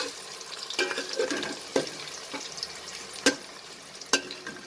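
Ghee frying in a pan for moong dal khichdi, a soft steady sizzle with a few sharp scraping clicks of a spoon against the pan, close and alone with no talk.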